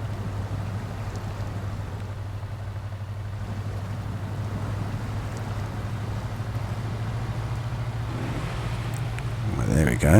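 Engine of a small off-road truck with tiny tyres labouring for grip in soft mud in the Snowrunner game: a steady low drone holds under a voice talking throughout, then swells louder near the end.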